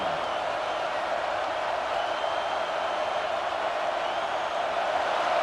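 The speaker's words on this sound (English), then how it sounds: "listen to this crowd coming through" Stadium crowd noise from the EA Sports College Football 26 video game, a steady, loud roar of cheering that holds level throughout with no breaks.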